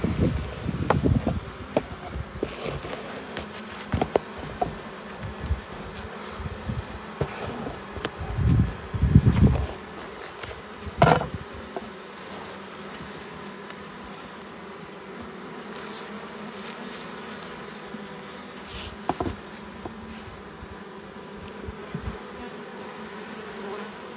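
Honey bees hum in a steady, continuous buzz around a hive, with occasional bumps and rustles up close.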